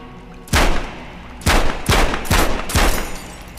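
Gunshots from a firearm in the VR game Metro Awakening: five sharp, loud cracks, one lone shot followed after a pause by four in fairly quick succession, each with a short ringing tail.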